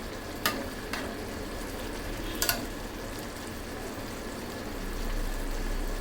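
Quiet scraping and clinking as biryani rice is stirred in a pot on low heat, with a few sharp spoon taps against a steady background hiss.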